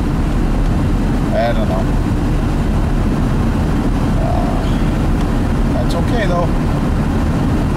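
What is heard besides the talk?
Chevrolet Tahoe driving with windows up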